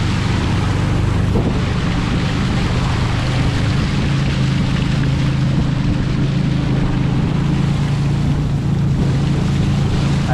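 A small motor boat runs along a rural canal, its engine giving a constant low drone under a loud, unbroken wash of water and wind rushing past the microphone, with no voices.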